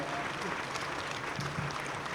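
An audience at an official gathering applauds to welcome regional manager Puneet Kumar, a steady patter of many hands clapping throughout, moderately loud and even.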